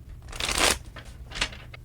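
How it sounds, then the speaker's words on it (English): Tarot cards being shuffled in a few quick riffling bursts, a longer rustle followed by shorter flutters, fairly close and moderately loud with no talking. "3 more shuffles, and let's begin."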